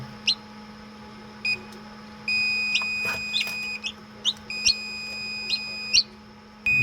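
Short electronic beeps from a chicken-egg incubator's low-humidity alarm sound in an irregular pattern, some sustained as longer tones, over a steady low hum.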